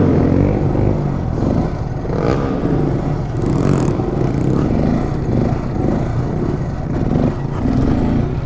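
A Honda Grom motorcycle's small engine revs and runs steadily up close for a stretch, with a continuous buzzy drone and surges as it is pushed through stand-up wheelies.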